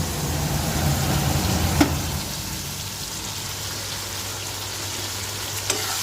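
Prawns frying and being stirred in a pan with turmeric, salt, chilli and regular spices, a steady close sizzle with occasional scrape of the spatula, no talking.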